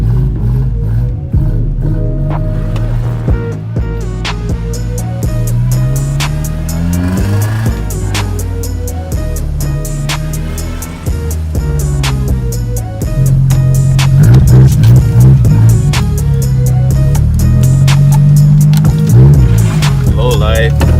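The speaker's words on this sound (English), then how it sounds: "if you like the sound of the exhaust, give this video a like right now" Exhaust of a Nissan D21 mini truck after an exhaust job, a loud, throaty engine revving up and down near the microphone, rising to a heavier, louder drone in the second half.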